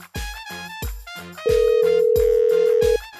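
A phone rings unanswered, playing a melodic electronic ringtone of short, bright, plucked notes with a long held tone in the middle, close and clear with no talk.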